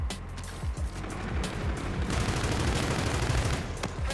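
The KARMA-45 gun fires in rapid automatic bursts in a video game shooter, a dense, loud and close run of shots with mechanical clatter that continues almost without a break.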